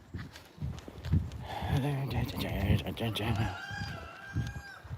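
Chickens cluck and warble close by in a busy cluster, with a rooster-like crowing call rising in the middle, mixed with footsteps and a voice.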